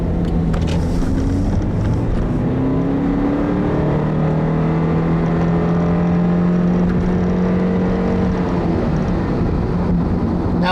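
A 2014 Subaru Impreza's 2-liter FB flat-four engine on the move, giving a steady, smooth interior drone with a low hum that rises and falls gently under continuous road noise.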